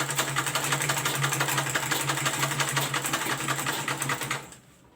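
A sewing machine stitches a small fabric traveling bag, a steady fast mechanical whir with rapid needle ticking, running close and loud for about four seconds before stopping abruptly.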